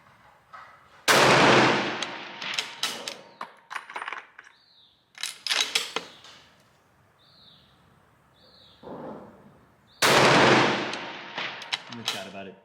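Rifle shots firing reloaded test rounds outdoors at a range in a light breeze, several sharp, loud, close reports with echoing tails spread across the span, separated by quieter gaps with faint rustling.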